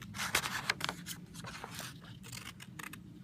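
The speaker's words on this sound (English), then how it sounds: "you can stick your scissors in so that you can cut up to the top so that it makes a flap" Scissors snip through paper to open a flap in a foldable, giving a series of quick, crisp cuts and rustles up close, with no talking.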